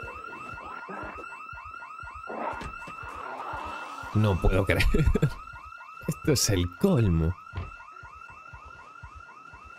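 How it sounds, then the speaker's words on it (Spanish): A car alarm blares in the zombie survival game Project Zomboid with a repeating, loud whooping cycle, while someone talks and laughs over it. "no puedo creer que hay una maldita alarma aquí."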